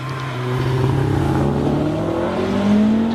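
Caterham race car accelerating hard at the Prescott hillclimb, a close loud engine roar with rising revs and gear changes, pitch climbing steadily through the clip.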